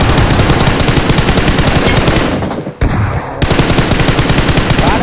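Loud, continuous automatic gunfire in the mobile battle royale game BGMI, rapid rhythmic shots with a brief break midway before the firing resumes.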